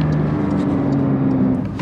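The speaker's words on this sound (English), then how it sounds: "Let me blip as I roll up so they know." Porsche 992 GT3 engine rolling up slowly with a quick throttle blip, a steady close engine tone holding pitch over a short stretch with no talking.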